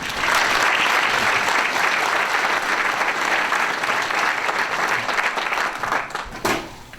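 Loud, full applause from a crowd at a high school champions banquet greets a senior student, sustained clapping that tapers off near the end with a sharp knock.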